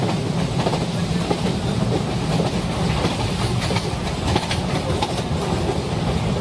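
A train running along the tracks, heard as a loud, close, continuous rumble with rhythmic wheel clatter throughout.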